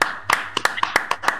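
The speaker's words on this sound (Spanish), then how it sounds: "que le demos un aplauso al que está allá" A small group clapping for someone, a handful of sharp, uneven individual hand claps spaced irregularly over a brief moment, fairly close and dry.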